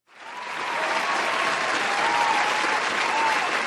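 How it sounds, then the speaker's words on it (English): Applause sound effect during a livestream giveaway: a large crowd's clapping swells in quickly from silence and holds as a thick, even roar of hands, with faint whistle-like tones riding above it. "Get you some applause"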